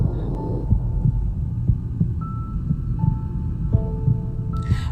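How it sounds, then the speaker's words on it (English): Heartbeat sound effect, a low steady thumping pulse under a droning hum, with faint tones drifting in and out and no talk. "I could hear her heartbeat slow down."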